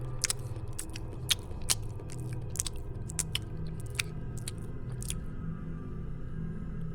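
Slow, repeated chewing with sharp wet clicks and crunches at irregular intervals, close by, over a low steady rumble.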